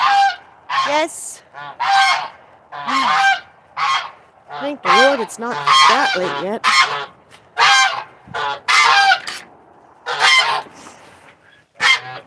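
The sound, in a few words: pet goose honking, swan goose or Chinese goose mix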